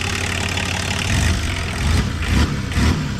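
A 1984 Volvo 244 diesel with 555,000 km idles with a steady, close low rumble. Slight swells in level suggest a faint rise in revs, and no voices are heard.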